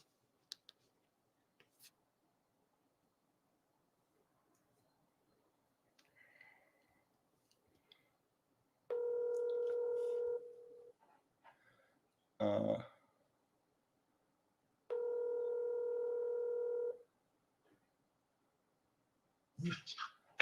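A phone call rings out over speakerphone: two long, steady electronic ring tones, each about two seconds, separated by a pause, with scattered clicks and a brief burst of handling noise in between.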